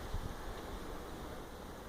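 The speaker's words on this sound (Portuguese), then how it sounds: "é o vento meneando as folhas" Wind moving through leaves in the open air of Caju cemetery, a steady, soft broadband rush with slight gusting and no voices.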